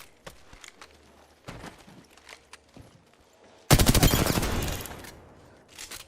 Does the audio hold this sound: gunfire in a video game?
yes